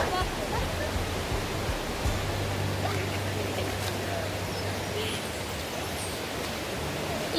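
A continuous broadband rush of flowing water fills the scene, steady and enveloping like a nearby river, with a faint low hum underneath.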